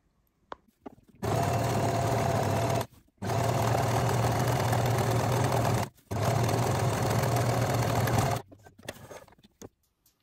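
A sewing machine runs steadily in three long bursts, stitching a pintuck a quarter inch from a folded fabric edge with matching thread; the motor hum is close and loud, separated by brief pauses.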